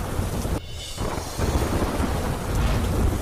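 Heavy monsoon downpour over Valsad, near the Vanki river, makes a dense, steady roar of rain with low rumbling, loud and continuous with a brief dip early on and no voices.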